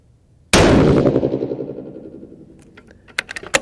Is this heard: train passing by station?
no